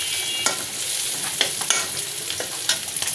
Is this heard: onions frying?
yes